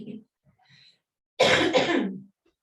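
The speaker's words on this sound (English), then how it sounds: "Excuse my coughing." A couple of sharp coughs close by, preceded by faint breathing in an otherwise quiet space.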